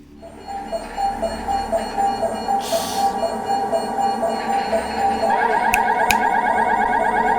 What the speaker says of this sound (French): Quand soudain, On va écouter leur réunion. une alarme sonne.